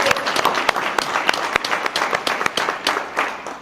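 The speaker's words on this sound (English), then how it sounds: "can we please just give another round of applause for all of our elected officials?" A room full of people at a community center grand opening celebration applauds elected officials, with dense, steady clapping with sharp individual claps standing out, close and fairly loud throughout.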